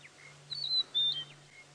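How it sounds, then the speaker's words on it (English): Monotonous larks calling at dusk in the African bush, a few faint high whistled notes in short bursts over a quiet background with a low steady hum. "I can hear the monotonous larks calling as well."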